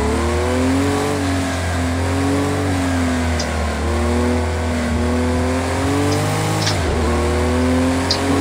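A race car engine in Project Cars 2 revs hard and steadily, its pitch rising and dipping with throttle changes and briefly cutting out near the end, loud and continuous with no talk.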